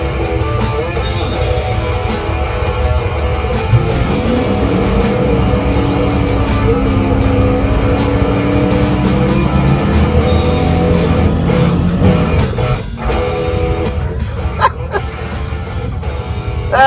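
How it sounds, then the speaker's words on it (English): A black Plymouth race car does a burnout at a Friday night street race at St. Thomas Raceway Park, its engine roaring loud and steady with a rising, wavering whine throughout. "just a little burnout for show."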